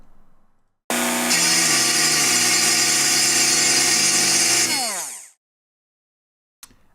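The Ripper blade from Dead Space, built from layered sounds, cuts in with a loud sustained mechanical whirring whine for about four seconds, then winds down in pitch and stops, followed after a pause by a single sharp click.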